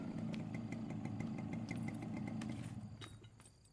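Motorcycle engine idling steadily up close with a low, continuous rumble, then easing off and fading slightly toward the end; no voices.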